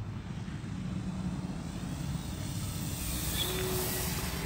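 FMS P-47 Razorback RC model plane flying low over grass, a steady electric-motor and propeller drone that holds constant and builds slightly as the plane passes, with an outdoor ambient wash.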